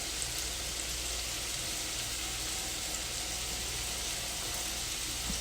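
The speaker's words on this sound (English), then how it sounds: "So I'm going to cook the shrimp on both sides" Shrimp cooking in a pan give off a steady, soft sizzle that stays even and continuous at a moderate distance, with no voices.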